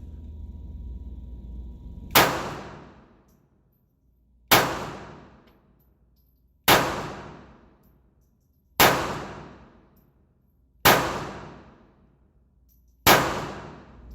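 Ruger LCP pistol fired at a target from 10 feet, six sharp loud gunshots spaced about two seconds apart, each ringing out with a decaying echo, no talking.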